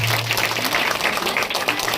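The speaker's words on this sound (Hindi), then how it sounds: "चलो ताली लगा दो यीशु मसीह के नाम से" A church congregation at a Sunday meeting claps together in a dense, steady burst of applause that carries on throughout.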